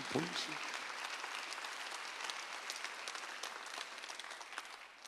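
A church congregation at a Sunday worship service breaks into applause, a broad wash of clapping that stays steady and even for several seconds, fading slightly toward the end.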